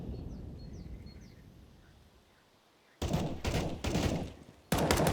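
Automatic gunfire in a first-person shooter match breaks out after a few quiet seconds, two loud sustained bursts close to the listener with a short gap between, and a third starting just at the end.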